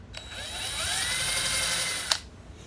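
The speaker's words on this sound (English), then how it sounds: "And we're going to drill this." A 3/4 inch Forstner bit bores a hole in wood, giving a steady high-pitched whine and grind that builds and holds for about two seconds, then ends with a short sharp catch as the bit clears.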